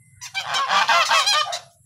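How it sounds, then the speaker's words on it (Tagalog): Loud, close geese honking in a dense, overlapping burst lasting a couple of seconds, harsh and nasal, with no talking. "Napakaingay po ng gansa."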